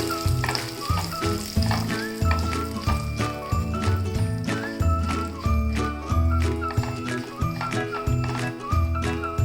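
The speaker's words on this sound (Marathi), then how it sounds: "हे ड्रायफ्रूट टाकते काजू बदाम पिस्ता खसखस थोडं परतून घेते तुपामध्ये" Cashews, almonds, pistachios and poppy seeds fry in ghee for ukdiche modak, giving a soft sizzle that sits under louder, rhythmic background music.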